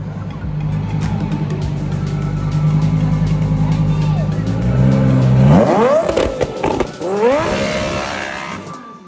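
A Lamborghini Huracan Super Trofeo Evo race car sweeps past, its engine note climbing and then swooping down in pitch as it passes close by at high revs, loud over steady background noise.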